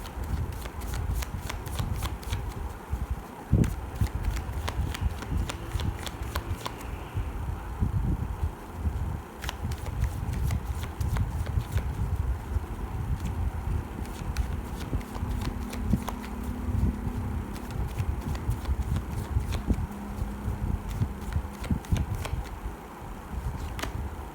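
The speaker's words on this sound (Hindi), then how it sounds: "ओके, मैं शफल कर रही हूँ" Tarot cards shuffled by hand at close range, a steady run of soft riffling and papery slaps with sharper clicks scattered throughout, alone with no one talking.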